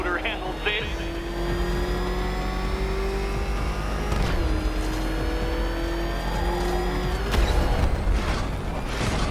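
The Batmobile's engine in Batman Arkham Knight roars and races loudly and continuously, its pitch climbing through rising gear shifts while a voice speaks over it.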